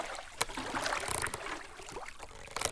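Water sloshing and splashing around a small boat as it is towed out to sea at high tide, a staged audio-drama effect with brief sharp knocks over a steady wash, no speech.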